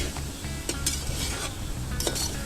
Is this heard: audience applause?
no